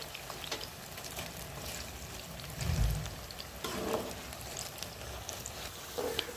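Finger chips frying in a wok give a steady, faint sizzle and bubbling, with a few louder low bursts as the oil shifts or is stirred.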